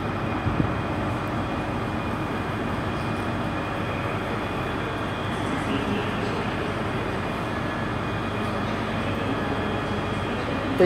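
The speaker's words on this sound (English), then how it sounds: "departing out now, I can hear, is the 1503 service to Anniesland" ScotRail Class 385 electric train pulling out of Glasgow Queen Street station, a steady, moderately distant rolling rumble with a faint whine that persists throughout.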